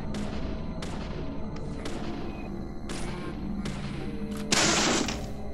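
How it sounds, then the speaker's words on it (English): Enemy gunfire in Deadly Premonition, a series of sharp separate shots cracking out with short pauses between them over low game ambience, ending in a brighter, heavier blast. "Until suddenly there were, like, people shooting at me."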